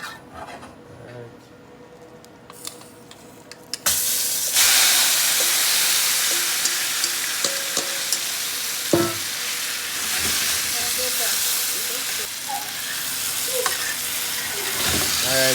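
Chicken frying in a pan for coconut curry chicken: after a quieter start with a few clatters, a loud dense sizzle suddenly erupts and holds steady, peppered with utensil knocks and scrapes, up close.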